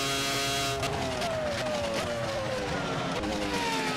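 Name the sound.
race car driving through turn 1, from a racing video game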